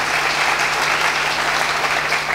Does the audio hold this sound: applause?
yes